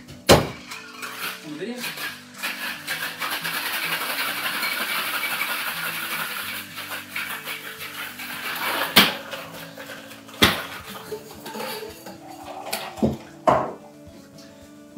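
A cocktail is shaken hard with ice in a bartender's shaker, a dense continuous rattle for about eight seconds, followed by several sharp knocks and clanks, with a person talking in places.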